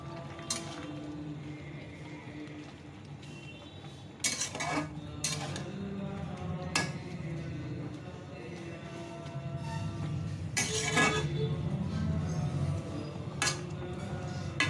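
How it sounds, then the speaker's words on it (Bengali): Spinach being stirred in a cooking pot, with sporadic metallic scrapes and clinks of a utensil against the pot over a steady low background hum. "তার আগে পালং শাকটা একটুখানি নেড়ে দেবো"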